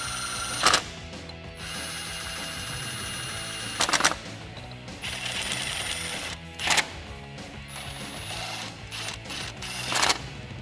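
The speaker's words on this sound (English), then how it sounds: "So now we can go ahead and tighten all of these down." A hand ratchet tightens the coil pack bolts on a 1994–2000 Mustang V6. It gives quick bursts of rapid clicking between stretches of quieter mechanical noise in a garage.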